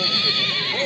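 A horse at a livestock market in Aksy, Kara-Jygach, lets out a brief, close, loud neigh lasting under a second, with no speech over it.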